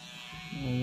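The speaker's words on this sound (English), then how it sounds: "I'm gonna shave this off. So now on the upper lip, on top of the mustache." An electric razor shaving an upper-lip mustache switches on partway through, a close, brief, rising buzz after a quiet start.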